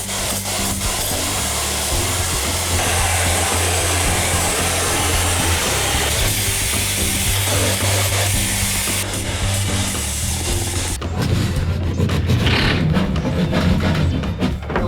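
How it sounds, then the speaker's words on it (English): Drywall being cut open for plumbing access during a bathroom renovation, a steady, dense rasping and grinding that runs continuously, shifting to a rougher, more broken scraping near the end. "I'm just cutting a hole in the drywall for the plumbers right now."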